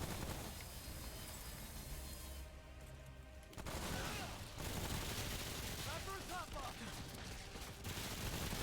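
Rapid bursts of gunfire from a Spitfire weapon in a shooting video game crackle in dense volleys, with a brief pause and then more shots and impacts amid game effects, fairly faint overall.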